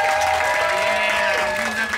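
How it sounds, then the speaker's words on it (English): Audience applause for the onboard fun squad at a cruise ship comedy show, a steady wash of clapping with a voice carrying over it throughout. "Can I get a little round of applause for our fun squad"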